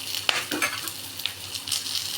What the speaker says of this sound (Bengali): পেঁয়াজ আর কাজুগুলো আমার ভাজা হয়ে গেছে নরম মোলায়েম হয়ে গেছে